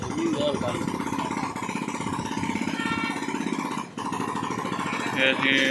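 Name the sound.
repaired motorcycle engine running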